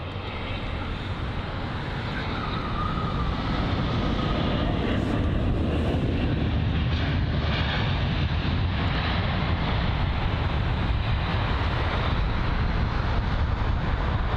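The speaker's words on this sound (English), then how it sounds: "It's once again another British Airways aircraft." A British Airways Airbus A320-200 at London Heathrow gives a steady, loud jet roar that holds evenly for the whole stretch, with no voices over it.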